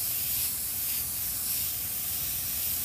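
Airbrush spraying blue paint in a steady, continuous hiss of air and atomized paint, close and fairly loud, holding even for the whole stretch with no voices.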